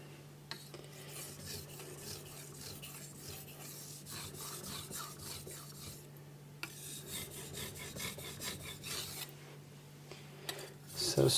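Steady scraping rasp of a blade stroked back and forth on a 1000 grit whetstone, repeated rubbing strokes close up over a constant low hum, with occasional faint talk.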